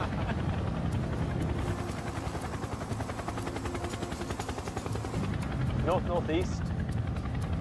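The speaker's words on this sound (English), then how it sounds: "The Chinook proceeds at low level across the Antrim Hills." A Chinook twin-rotor helicopter flies at low level over the Antrim Hills, its steady rotor chop and engine drone continuous throughout, with a brief radio voice speaking over it near the end.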